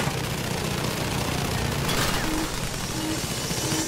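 Sustained machine gun fire from a plane's tail gunner in Battlefield V rattles on continuously, a dense unbroken chatter that fills the whole stretch with no pause.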